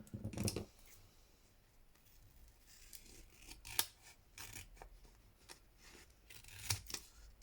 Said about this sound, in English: So, trim all that down